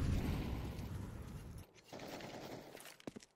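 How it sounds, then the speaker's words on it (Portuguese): Rapid bursts of automatic gunfire rattle from a game during a professional esports match, FURIA vs Zero Tenacity at CCT Season 2, dense at first, then thinning to a few scattered shots. "A Sera troca tiros agora do outro lado."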